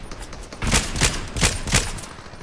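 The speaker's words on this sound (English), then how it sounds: "Somebody's shooting at us." Gunfire in the video game Fortnite rings out as four loud, evenly spaced shots with roughly a third of a second between them, over a steady background hum.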